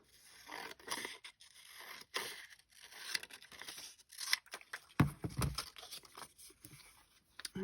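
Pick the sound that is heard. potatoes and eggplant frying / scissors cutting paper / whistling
scissors cutting paper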